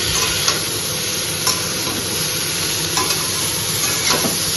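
Green jackfruit curry with fried potatoes bubbling in a pan, giving a dense, constant sizzle and hiss with a few faint clinks, close and uninterrupted.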